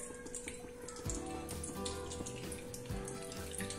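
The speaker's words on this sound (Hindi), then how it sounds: "ऑयल डाल दूंगी मैं कढ़ाई के अंदर" Cooking oil pours into a kadhai while making motichur laddu, a steady liquid trickle and gurgle with shifting splashy pulses, close by and fairly faint, without voices.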